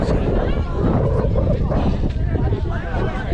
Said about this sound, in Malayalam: നല്ല കാറ്റ്